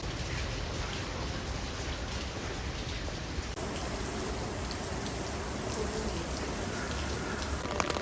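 Steady rain falls around the Osu Kannon temple area in Nagoya, Japan, a dense, even hiss of drops on surfaces that holds for the whole stretch with no voices.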